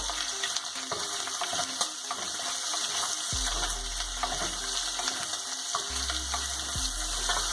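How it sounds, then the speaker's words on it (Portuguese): Calabresa sausage fries with bacon in a pan, giving a constant crackling sizzle. Occasional scraping stirs sound close, and there is no talking. "Dá uma mexida e vamos deixar fritar mais um tempinho aqui"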